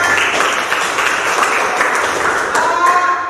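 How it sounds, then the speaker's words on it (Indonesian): Classroom applause as students clap for classmates who presented, a loud, dense patter of many hands close by, sustained and even, with a few sharper claps standing out near the end. "Tepuk tangan."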